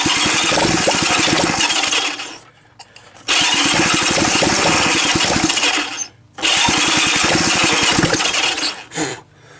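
A small Honda engine cranked repeatedly, three long loud bursts of rough turning-over with short gaps between, never settling into a steady idle.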